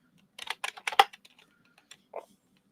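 Quick typing on a computer keyboard while searching a website, a short burst of close, crisp key clicks followed by a pause and one last tap, with no talk.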